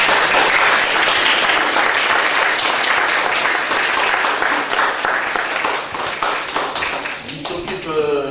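Enthusiastic applause from a crowd at a judo club Christmas event, dense and sustained, gradually thinning toward the end as a voice begins speaking.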